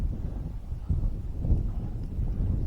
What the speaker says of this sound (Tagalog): Sobrang lakas ng hangin, no?